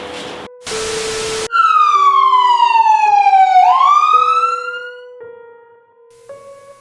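An ambulance siren wails loudly and close, its tone sweeping down then up before breaking into short stepped electronic tones, following a burst of broadband noise.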